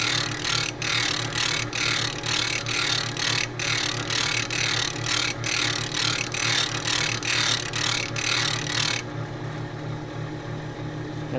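A hand plane blade is ground on a grinding wheel, giving a steady whirring rasp with repeated sharp scraping strokes, then the grinding stops and only the wheel's lower hum remains.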